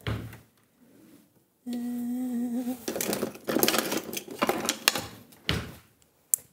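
Electric grinder powdering a dried ingredient for a red mullet dish, a loud steady whir lasting about a second, then rattling and clattering as the powder is shaken and handled nearby.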